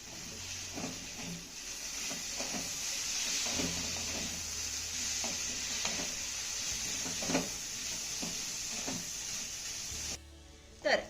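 Bitter gourd cooking in a pan on a low flame is turned over with a spoon, giving repeated soft scraping strokes over a faint, constant sizzle before a short clatter at the end.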